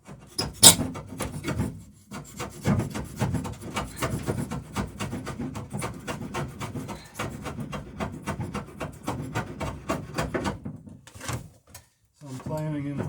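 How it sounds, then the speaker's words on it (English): A hand plane works along a wooden boat plank in a boat shop, giving a dense run of rasping, scraping strokes at close range, with occasional voices in between and a short knock near the end. "So I'm planing in line with the plank."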